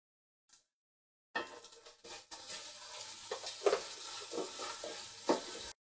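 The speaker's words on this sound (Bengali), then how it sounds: "আদা রসুনের র স্মেলটা চলে যাওয়া পর্যন্ত এগুলোকে একটু ভেজে নিলাম" Onion frying in a pot with ginger and garlic paste, a steady close sizzle with repeated stirring scrapes and spoon knocks starting after a brief quiet lead-in.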